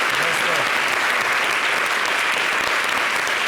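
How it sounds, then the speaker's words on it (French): Dense audience applause at a televised cultural event, loud and continuous clapping from a large crowd throughout. "Et évidemment, ça s'applaudit, ça se salue."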